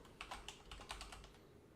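Keys clack on a computer keyboard in a quick, irregular burst of a dozen or so soft taps, faint and close against a quiet background.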